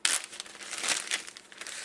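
Close, continuous crinkling of a thick plastic zip storage bag being handled in a kitchen, dense rustling bursts with no voice.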